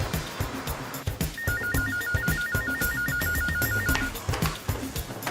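A telephone rings with a steady electronic trill lasting a few seconds, heard over busy background noise and thumping sounds.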